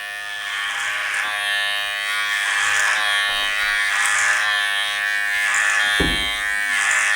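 Electric hair clippers buzz steadily in a clipper-over-comb taper on curly hair, a continuous close hum with slight rises and dips and a brief knock near the end.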